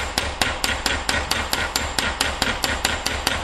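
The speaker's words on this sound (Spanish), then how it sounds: "Ya he terminado de retocar la tuerca con el martillo." A hammer taps a tap's retaining nut into place with a steady run of about fourteen sharp, evenly spaced metallic knocks, close and alone with no talking.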